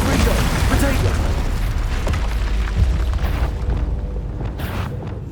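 Expulso and Incendio spell explosions in Hogwarts Legacy, loud rumbling blasts and crackling bursts in a dense, continuous barrage that thins out near the end, with a voice shouting over them.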